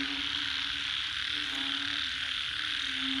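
Frogs croaking in a dense continuous chorus at a cattle pen after rain, steady and fairly faint, with insect-like buzzing mixed in and no clear talking.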